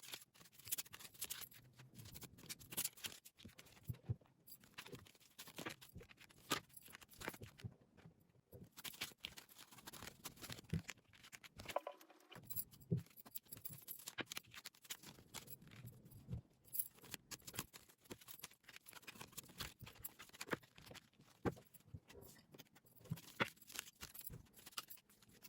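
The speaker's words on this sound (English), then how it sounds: "This process of card picking will be sped up, and we'll get straight into your reading." Tarot cards are shuffled and picked in sped-up form, giving a faint, continuous run of quick papery flicks, taps and rustles throughout.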